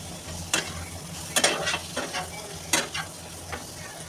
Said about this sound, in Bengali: একটু উল্টে পাল্টে ভেজে নেবো